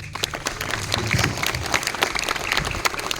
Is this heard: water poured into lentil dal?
no